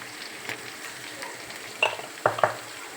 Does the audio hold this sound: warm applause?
no